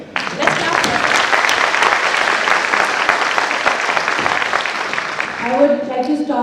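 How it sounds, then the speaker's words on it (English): An audience at a graduation ceremony in Kenya claps loudly and steadily for several seconds before the applause fades, and a voice begins speaking near the end. "Let's clap for it."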